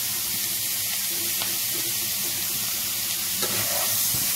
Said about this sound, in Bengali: এবার দিয়ে দেবো টমেটোটা